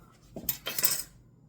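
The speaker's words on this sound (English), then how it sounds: "you can just tell how soft this bread is when you slice into it here" Knife slicing into a soft loaf of potato bread, with two short scraping strokes close up, then quiet.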